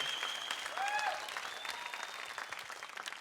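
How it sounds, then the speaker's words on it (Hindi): Enthusiastic studio audience applause for Sunita on the Dance India Dance reality show, a thick continuous roar of clapping with whistles and cheers over it, brief and steady. "जोरदार तालियां हो जाए सुनीता के लिए।"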